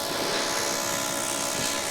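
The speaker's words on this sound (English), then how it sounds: "the drone is up in the tree" A small drone caught up in a tree, its propellers giving off a steady, continuous high buzzing whine that holds level and fairly close for the whole stretch, with no talk over it.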